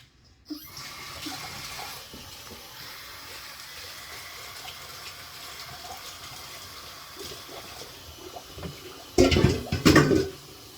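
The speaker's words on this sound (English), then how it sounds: "Then wash my hands." Hands being washed outdoors under a running tap while making homemade dandelion kimchi: a steady stream of water with louder splashing bursts near the end, and no talk.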